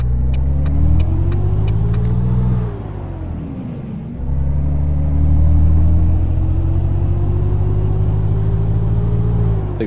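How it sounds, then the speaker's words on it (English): A powerful truck engine in Euro Truck Simulator 2 gives a loud, continuous rumble. Its revs climb, dip briefly, then rise and hold steady, with a hissing burst near the start. "I think this has got a pretty powerful engine"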